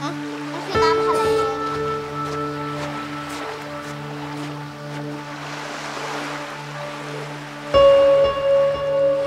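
Surging ocean waves wash in a steady broadband rush that swells midway, with sustained tonal hums layered over it throughout.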